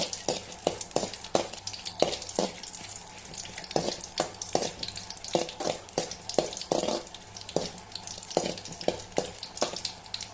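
Red chillies fry in a little oil in a pan for home-style sambar, with a steady sizzle broken by frequent sharp scrapes and clicks of stirring. Close and moderately loud, with no talking.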